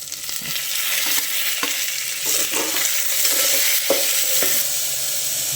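Onion, capsicum and tomato frying in a pan for a vegetable pulao, with a continuous bright sizzle and repeated stirring scrapes and taps of a spoon throughout, close and steady.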